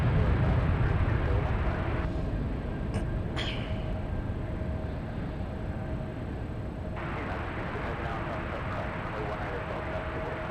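A jet takes off at San Francisco airport, heard as a broad, steady roar that fades slightly over time, with brief clicks and a short sharp noise near the start.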